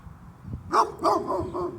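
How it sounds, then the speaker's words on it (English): A dog barks in the background behind a speaker, a series of four or five muffled barks in a steady rhythm at moderate loudness. "please forgive this dog barking in the back"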